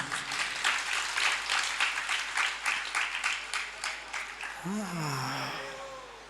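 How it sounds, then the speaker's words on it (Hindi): Rhythmic clapping rises from an audience at a spiritual sermon on the Samadhitantra and lasts several seconds before fading as a voice begins speaking. "इतनी सुंदर आप तालियां बजा रहे हो"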